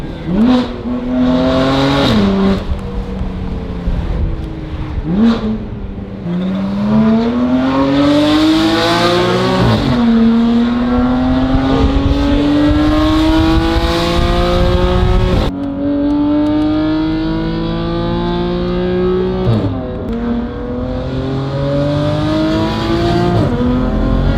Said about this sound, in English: It sounds like an F80 with the secondary air system always on.